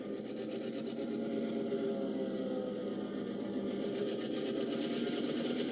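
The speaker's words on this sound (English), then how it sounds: "that engine will start faster and move at a lower idle" A DCC-controlled model train locomotive motor runs steadily at a low idle, a constant, close whirring hum with a faint mechanical buzz and no speech.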